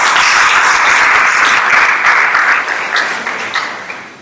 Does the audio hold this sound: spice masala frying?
no